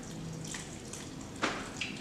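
Water poured into a blender jar over red lentils while preparing gluten-free Hawaiian pizza dough, a steady soft splashing stream that runs on and brightens briefly near the end.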